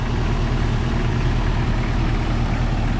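A 1997 Jeep Cherokee XJ engine idles with a rebuilt power steering pump and a slightly wobbling pulley, an even, steady low rumble heard up close without a break.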